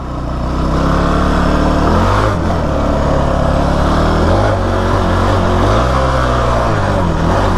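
A Kawasaki KFX 450R quad's engine roars loud and close while riding, its steady drone dipping and wavering in pitch as the throttle eases and the quad slows.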